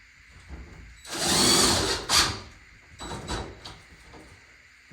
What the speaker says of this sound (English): put a second screw in